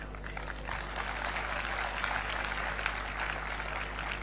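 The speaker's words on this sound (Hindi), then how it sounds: "ताली मत बजाइए," An audience breaks into sustained applause, a dense even wash of clapping that holds steady throughout without talk over it.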